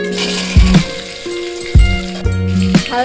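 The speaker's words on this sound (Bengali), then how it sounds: "এবার দেব ওই তেলে দুটো তেজপাতা, দুটো শুকনো লঙ্কা আর জিরে ফোড়ন" Bay leaves, dried red chillies and cumin seeds hit hot oil in a pan, giving a steady close sizzle broken by several sharper crackling bursts as the spices fry.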